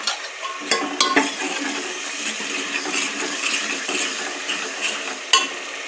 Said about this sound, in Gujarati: હવે આદુ લસણની આપણે પેસ્ટ નાખી દઈશું, પછી હલાવી નાખશું